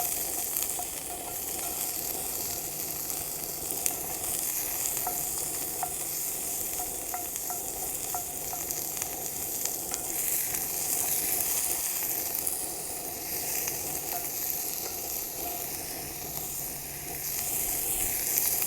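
Steady loud sizzling and frying of food in a pan over an off-grid cooking setup, a continuous hiss with faint stirring scrapes and no talking.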